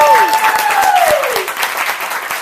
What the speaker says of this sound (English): So y'all give her another round of applause